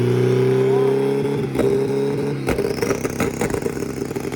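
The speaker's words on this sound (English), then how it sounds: "So push the clutch in. Bring up the RPMs." A Toyota Tacoma 2RZ/3RZ engine with the clutch pushed in climbs from a steady idle hum into rising revs, with a loud, rough, pulsing note up close in the last couple of seconds.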